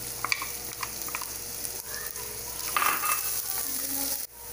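Finely chopped ginger sautés in hot oil, a continuous close sizzle with a few scrapes from stirring. The frying swells toward the end, then drops off abruptly.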